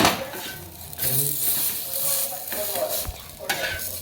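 Pav bread warms in butter on a hot pan with bhaji mixed in, giving a steady loud sizzle broken by repeated scraping stirs of a spatula against the pan.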